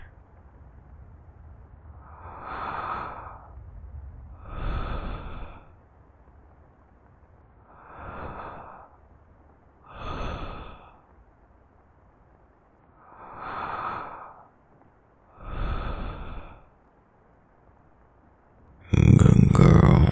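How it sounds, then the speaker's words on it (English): Slow, deep breaths drawn in and let out, six even swells of air spaced a few seconds apart and heard close and soft, ending in a sudden louder rustle. "Take some deep breaths with me."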